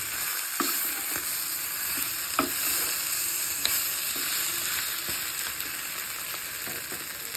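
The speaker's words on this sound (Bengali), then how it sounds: "এটা এখন আমি নেড়ে চেড়ে নিব। মাংসগুলো মশলার মধ্যে আমি ভালো করে ভেজে নিলাম।" Desi chicken pieces fry in spices while a spoon stirs them around the pot, giving a continuous sizzle with scattered clinks and scrapes of the utensil, close and without talk.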